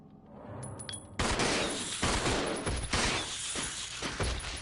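Rapid bursts of gunfire from Resident Evil 0 erupt after a short quiet opening, loud and dense, with sharp repeated shots and crashing impacts filling the rest of the stretch.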